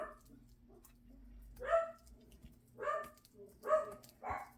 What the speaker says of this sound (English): I think that's what they're barking at.